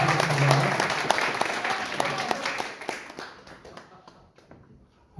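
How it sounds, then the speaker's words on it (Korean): Audience at a National Assembly academic forum claps vigorously in thanks, dense applause that thins and fades over several seconds, with a voice speaking over it early on. "다 같이 힘찬 박수로 다시 한번 감사해 주시기 바랍니다"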